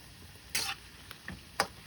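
A spoon stirs pork liver adobo with bay leaves in a pan, giving three short scraping strokes over a soft, steady sizzle, close and fairly clear with no talking.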